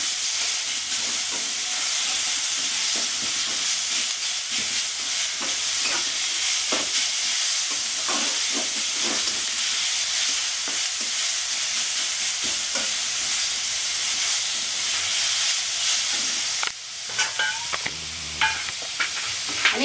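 Chillies, ginger and garlic fry in a pan for a low-oil chicken dish, a loud continuous hiss and sizzle with intermittent scraping stirs, rising in intensity near the end; no talking.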